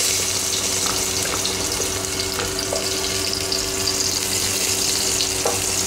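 Garlic sautés in a pan for sinigang with a continuous, fairly loud close sizzle and crackle, and light stirring and water-like hiss running steadily throughout without talk.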